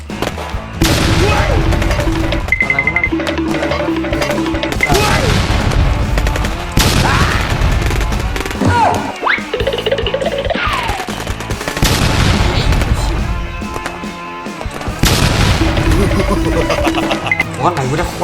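Rapid gunfire from weapons in the Roblox video game crackles loudly and almost nonstop, mixed with booms, while voices talk and shout excitedly over the shooting.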